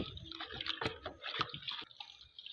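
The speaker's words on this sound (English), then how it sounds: "pour the filtrate into a plastic bowl" Filtered bleach solution pours steadily into a plastic bowl, a close splashing, gurgling stream with a few drips that thins out toward the end; no one speaks.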